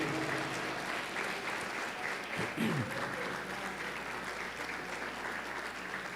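A church congregation applauding, steady broad clapping from many people heard at a moderate distance and sustained throughout, with a brief voice rising over it midway.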